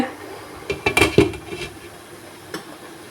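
A metal tawa griddle set over a pot of chicken biriyani: a quick cluster of clanking metallic knocks, then a lone softer clink a moment later, close and alone with no talk.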